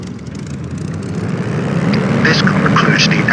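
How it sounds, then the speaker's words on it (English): Supermarine Spitfire engine idling in a flight video game, a loud steady low rumble that grows slightly stronger, with a brief higher mechanical whine near the end. "Continue to idle the engine at 1000 to 1200 RPM until it warms up"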